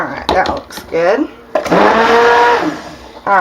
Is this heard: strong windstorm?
no